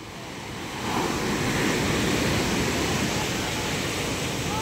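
A steady, loud wash of surf at a fish terminal in Tanza, rising quickly to a sustained roar of breaking waves with no talk.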